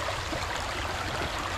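A mountain stream of cold meltwater from ice rushes steadily in a broad, continuous wash with no clear gaps and no voices.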